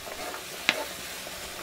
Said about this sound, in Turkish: Soğan ile kıymayı şöyle yüksek derecede 2-3 dakika kavuruyoruz.